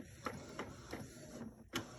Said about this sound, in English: And then we're gonna print.